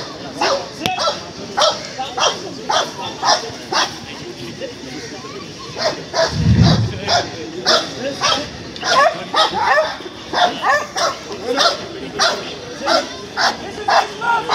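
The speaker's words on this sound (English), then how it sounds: "This is the ground explosive sniffing by Bravo." An explosive-detection dog barks and yips repeatedly in quick rhythmic bursts at a dog show, close by, with people talking underneath.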